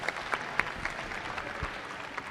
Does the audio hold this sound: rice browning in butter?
no